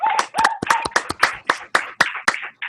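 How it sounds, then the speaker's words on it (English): Scattered hand claps from a few people sound over an online meeting, about a dozen distinct, uneven claps in quick succession, close and sharp, with a voice mixed in at the start. "Give it a round of applause."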